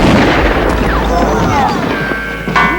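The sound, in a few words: gunshot from an old rusty gun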